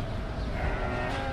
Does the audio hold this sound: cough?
no